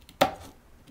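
A single quick cut with a knife into a palm frond bow gives one sharp, close scrape with a short tail, then near silence.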